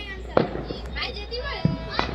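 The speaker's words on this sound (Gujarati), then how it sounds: "જો પેલી બાજુ તો ફટાકડા ફૂટે છે નકરા" Firecrackers and fireworks pop in short, sharp bursts close by during a festive kite-flying celebration, under a voice talking and children's chatter.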